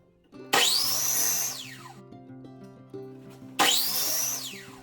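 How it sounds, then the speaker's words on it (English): Two cuts from a miter saw slicing wood pieces for a wall cabinet frame: each time the motor spins up to a loud, sustained whine as the blade bites through, then winds down with a falling tone, the second cut starting after a pause. "I'm just gonna head over to my miter saw and cut these pieces"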